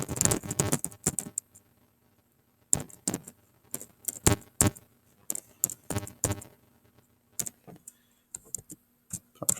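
Bursts of rapid, crisp clicking on a keyboard, close up, separated by short quiet pauses.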